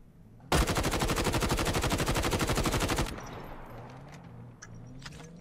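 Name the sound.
gunfire in the video game Call of Duty Mobile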